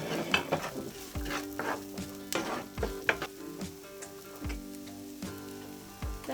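Vegetables and sauce sizzle in leftover chicken-frying oil while a utensil stirs and scrapes the pan in repeated sharp strokes over a soft continuous fry, close and fairly quiet, with no talking.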